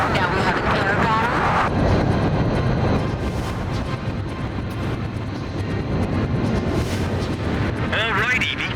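Jet fighter taking off in the Ace Combat 5 video game, a loud sustained engine roar with rumble throughout, under game music and radio voices.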